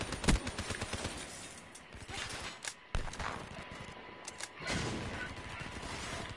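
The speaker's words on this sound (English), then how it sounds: "I gotta reload my weapon" A weapon reloads in the Call of Duty video game with quick metallic clicks and clacks of the mechanism. Bursts of distant gunfire and game noise mix around it.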